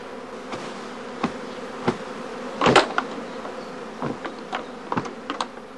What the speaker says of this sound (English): During the course of each swarming day, the prime swarms are packed in travelling boxes.